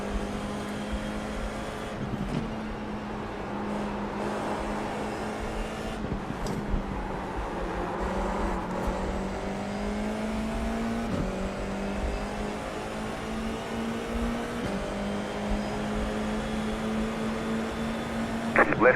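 A race car engine in the iRacing sim racing game, top split, during an overtake: a steady, loud engine drone with rising and falling pitch and brief dips at gear shifts, continuous throughout.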